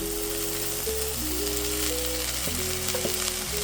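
Spinach dropped into a pan of frying red onions sets off a loud, steady sizzle with crackling bursts, close by and continuous, with no voices.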